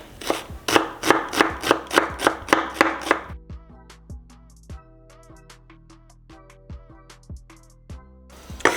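A knife dices an onion rapidly and rhythmically on a cutting board, then slows to scattered lighter cuts over soft background music.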